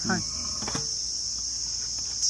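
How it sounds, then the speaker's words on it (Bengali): Crickets shrilling loudly outdoors, a constant piercing high drone that runs throughout, with a brief voice-like sound and a clatter near the start. "কানে তালা ধরে যাচ্ছে ওইদিকে ঝিঝি পোকার জন্য"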